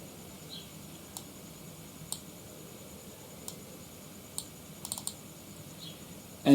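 Quiet computer keyboard typing, a sparse scatter of soft individual keystrokes spread over several seconds with a quick little cluster near the end, close and isolated against faint room hiss.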